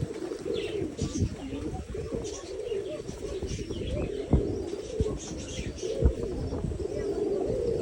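Pigeons in a village loft coo continuously in overlapping throaty calls, with occasional chirps and a few sharp wing or tapping sounds in a busy, close setting.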